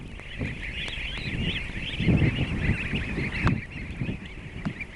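Domestic geese honk repeatedly on a farm, a steady chorus of overlapping calls at moderate distance with a few louder squawks standing out.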